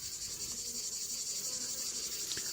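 A locust or grasshopper gives a steady, buzzy, high-pitched chirring that continues unbroken throughout, with no voices.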